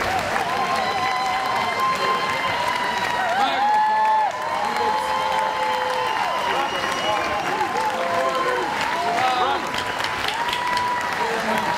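Crowd applause and cheering fill an election night event, a loud steady wash of clapping lasting over ten seconds, with voices and shouts mixed in throughout.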